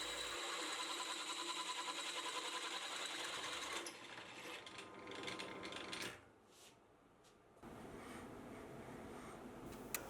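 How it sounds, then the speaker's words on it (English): A milling machine opens up a hole with a Deming drill bit, making a steady, loud mechanical whir close by. The whir drops in level partway through, stops briefly, then resumes. "I'll then open up that first hole with a Deming bit, and this means I can have a little bit of play for alignment later on."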